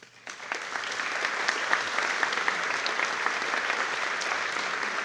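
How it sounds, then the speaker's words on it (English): Applause from attendees at a city council meeting, starting abruptly and then sustained as steady, moderately loud clapping from a room full of people. "Please give one more round of applause to all our Climate Award champions."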